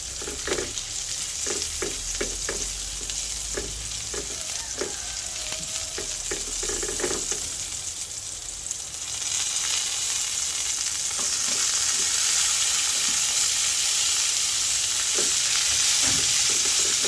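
Bitter gourd (ampalaya) sautéing in a pan with white onion, a constant close sizzle and fry punctuated by intermittent scraping stirs, the hiss growing brighter and louder midway, with no talking.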